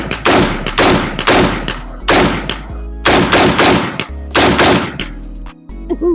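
A PSA PA-15 rifle fires Winchester 5.56 green tip rounds, roughly ten loud, sharp shots spaced in quick pairs and singles with reverberant tails, close to the listener.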